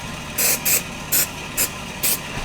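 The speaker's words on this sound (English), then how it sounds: "That's just anti-splatter spray." Anti-spatter spray hisses from an aerosol can onto a Nissan Patrol GQ chassis rail during welding for a 4WD rock slider: five short, close, sharp bursts at fairly even intervals over a low background hum.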